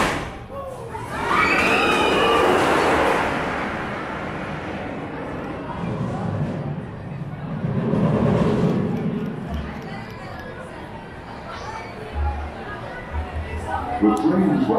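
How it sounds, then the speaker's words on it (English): Montezooma's Revenge shuttle roller coaster train at Knott's Berry Farm, heard from off the ride as a rushing, rumbling pass that swells and fades twice, with crowd chatter and thumps around it. "The train is rapidly approaching the station."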